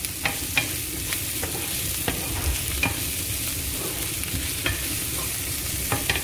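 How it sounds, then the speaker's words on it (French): Onions frying in a pan while cooking a steak with mushroom sauce, a steady close sizzle and crackle with occasional clinks and scrapes of stirring, no talking. "Je fais revenir mon oignon, les oignons."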